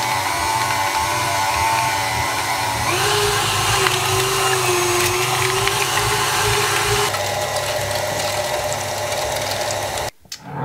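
A food processor whirs steadily as it mixes meat for smash burgers, a loud continuous motor drone with a rising pitch partway through, then stopping abruptly near the end.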